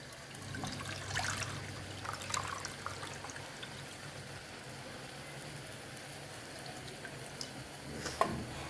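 Tamarind pulp is squeezed in water to draw out its juice, giving soft, continuous sloshing and trickling with a few brief splashy squelches, close and fairly quiet, with no speech.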